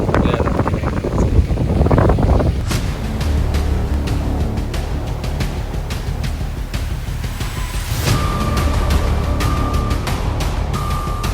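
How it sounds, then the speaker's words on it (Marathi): Strong night wind buffets the microphone near a waterfall campsite, a loud steady roar with gusty rumbling throughout and a brief higher tone partway through. "त्यानंतर 12-12:30 जी हवा चालू झाली ती खूपच जोरात आहे"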